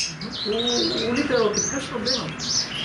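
Pet canaries and zebra finches chirp and twitter continuously, close and fairly loud, with bright overlapping calls and trills.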